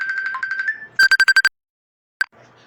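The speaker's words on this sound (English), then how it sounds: "I got a phone call." An incoming-call phone ringtone plays a bright beeping melody, then a burst of rapid loud pulses, one last lone beep, and a faint hiss.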